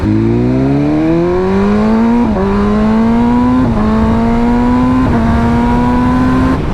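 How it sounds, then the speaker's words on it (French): A 2023 BMW M1000R motorcycle accelerating hard, its engine climbing steadily in pitch with three quick-shifter gear changes cutting in briefly, loud and close with no talking. "ce petit moment là quand tu passes la vitesse avec le shifter pro"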